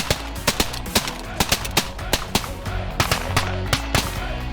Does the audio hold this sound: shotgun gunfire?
yes